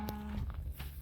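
A cow by a dirt road lets out a single short, low moo, near and clear, over faint outdoor background noise.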